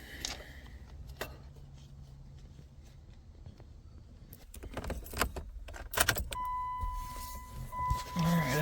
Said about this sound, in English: I heard the fuel pump in the back activate